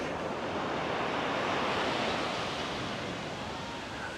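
Ocean waves wash steadily onto Kuantan Beach in Malaysia, a continuous, fairly loud broadband roar of surf with light wind noise and no voices.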